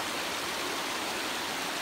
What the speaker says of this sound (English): what do you think of the waterfall?